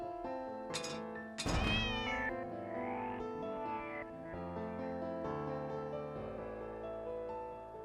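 A cat meows in the video game The Cat Lady, with drawn-out, wavering cries and a dull thunk near the start. It plays over sustained tonal game music, moderately loud and without speech.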